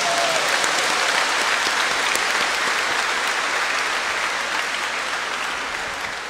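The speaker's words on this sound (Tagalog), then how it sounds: "Kaya ang lakas ng palakpak, no?" Dense, loud applause fills a church congregation's gathering during a bishop's homily in the Philippines, steady throughout before tapering slightly at the end, with no talk over it.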